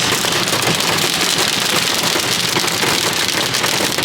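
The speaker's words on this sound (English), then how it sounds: "Dude, now it's hail. Listen to this." Hail pelting down hard during a sudden storm outdoors, a dense, steady hiss of impacts with scattered sharper ice hits, loud and continuous throughout with no voices.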